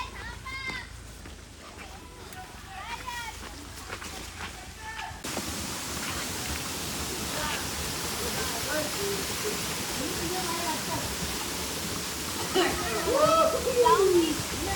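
Someone talks briefly at the top of a waterfall, then a steady rushing roar of the falls takes over, loud and continuous.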